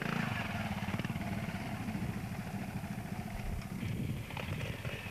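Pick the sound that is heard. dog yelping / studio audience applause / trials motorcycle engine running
trials motorcycle engine running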